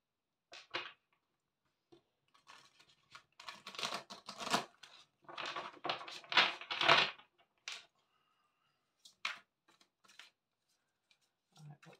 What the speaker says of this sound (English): Give them a good shuffle.